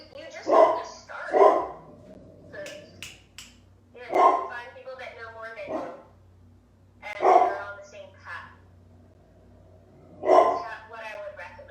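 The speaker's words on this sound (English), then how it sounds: "I don't know if you can hear the barking in the background." A dog barks intermittently in the background, faint beneath an ongoing conversation between people talking close up.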